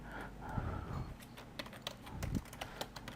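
Computer keyboard typing while writing in Google Docs, a run of quick, uneven key clicks heard up close at a low level, with no voices.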